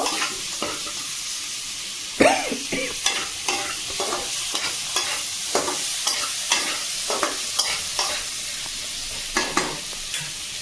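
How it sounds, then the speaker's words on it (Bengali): Potatoes and eggplant frying together in oil in a pan, stirred with a spatula in irregular scraping strokes over a continuous sizzle, close and fairly loud with no talking. "তো আলু বেগুনটা আমি একসাথে দিয়ে দিলাম ভালো করে আমি নেড়ে চেড়ে নেব"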